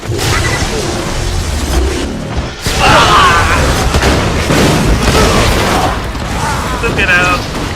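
Missile explosions in the Borderlands video game, heavy booming blasts and rumbling crashes layered in loud continuous game action, with a person talking over them.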